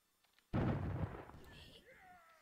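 A sudden heavy boom of a cannon firing in Totally Accurate Battle Simulator bursts out after a near-silent start, rumbling and slowly fading, followed by faint whistling game effects.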